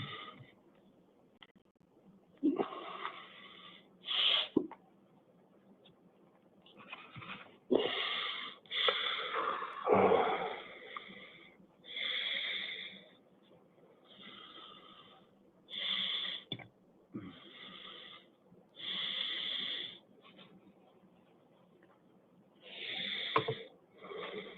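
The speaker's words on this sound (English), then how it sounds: "I love that heavy breathing." Heavy, rasping breaths come in repeated wheezy, snorting bursts every couple of seconds, close and fairly loud against a quiet background.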